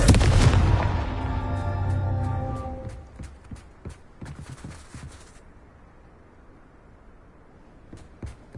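A Confringo fire spell blasts in Hogwarts Legacy, a loud booming explosion with a ringing, decaying tail, followed by scattered small crackles and clicks fading over several seconds.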